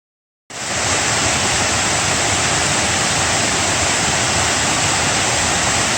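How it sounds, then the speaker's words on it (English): Fall Creek Falls, a 15-foot waterfall in Mayo River State Park in the Piedmont of North Carolina, heard from its brink as a loud, steady roar of rushing water that starts abruptly and continues unbroken. "I'm at the brink of Fall Creek Falls, one of the largest waterfalls in the Piedmont region of North Carolina."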